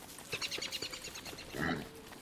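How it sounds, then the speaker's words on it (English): Pigs grunt and snort in the video game Don't Starve, a quick run of short oinks followed by a louder squeal-like grunt, fairly faint and with no talking over it. "There's lots of pigs here."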